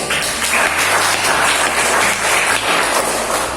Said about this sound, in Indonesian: sekali lagi tepuk tangan untuk kita